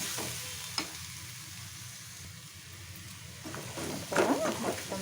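A pan of Telugu-style cluster bean fry with coriander powder and green chillies is stirred over the heat, its sizzle carrying a few sharp scrapes and a louder burst of stirring near the end, close up with no voices.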